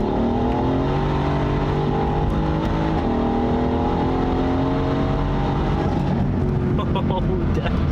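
Engine of a 700hp Mercedes C63S coupe rising through the revs under hard acceleration, heard from inside the cabin as a steady loud drone with pitch climbing and shifting, continuous throughout.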